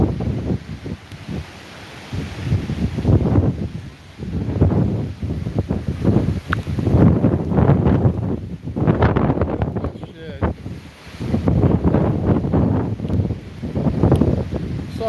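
Strong wind gusts of about 50 mph buffet the microphone in loud, rushing surges that rise and fall, with rustling and a voice speaking beneath the roar, in Punta Gorda, Charlotte Harbor.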